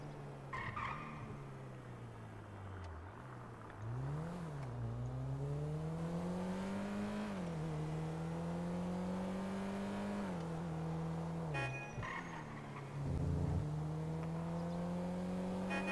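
Small car in the video game GTA V drives and accelerates, its engine droning steadily and rising and falling in pitch through revs and gear changes, with a brief tire squeal near the end.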